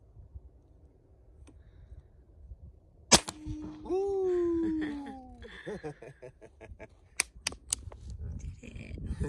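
A single sharp, loud crack from an AEA Zeus .72 caliber air rifle firing a 630-grain hollow point slug at a target, followed by a whooshing whine and scattered clicks and laughter.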